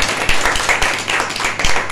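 A church congregation at a Friday healing meeting applauds loudly, a dense, continuous wash of many hands clapping together close by, with a steady rhythm throughout.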